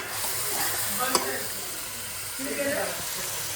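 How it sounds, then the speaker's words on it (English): Dal fry being stirred in a hot pan gives a steady, close broadband sizzle, with one sharp metallic clink partway through and a few soft scraping strokes near the end. "And then we'll stir it."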